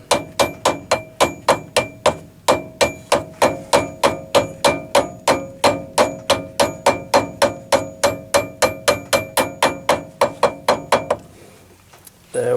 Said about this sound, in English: And then I put the gear on the back, and tap that one on.